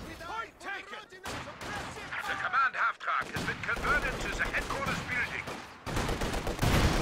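Light machine gun fire rattles in a Company of Heroes 2 battle: dense bursts of gunfire and explosions run throughout, with a commentator talking over the combat.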